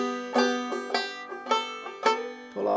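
A banjo plays a simplified version of the third part of a tune, a short run of bright plucked notes with a steady rhythm, close and clear with no talking.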